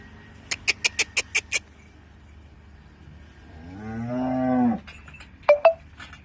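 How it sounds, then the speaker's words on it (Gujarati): A heavy, high-yielding dairy cow gives one long, rising low moo lasting over a second, preceded by a quick series of sharp clicks and followed by a couple of brief knocks. "ફૂલ વજનવાળી ગાય છે"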